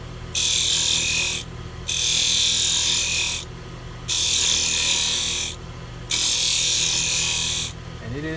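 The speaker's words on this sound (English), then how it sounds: "I'm trying to do an impossible thing, a dried piece of pine. I'm trying to shave it off when it has no core." A dried piece of pine wood being shaved with a hand tool in four long, steady scraping passes separated by short pauses, bright and close, with no voices.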